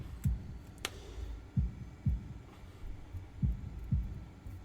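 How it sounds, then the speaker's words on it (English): Heartbeat sound effect from the Katawa Shoujo visual novel: a slow, muffled low thump repeating about once a second, near and steady over a faint hum, with a brief higher tick early on. "holding my breath in an attempt to hear my heartbeat."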